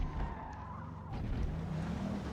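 A Bugatti Veyron in Forza Motorsport sliding off track at Suzuka during an R class qualifying session, with a loud tire skid over the engine that shifts to a rougher rumble partway through.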